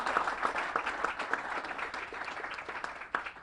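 A civic crowd applauds at the Greater Peoria 2030 campaign launch, steady dense clapping from many hands at moderate distance, with a few sharper claps popping out through the three seconds.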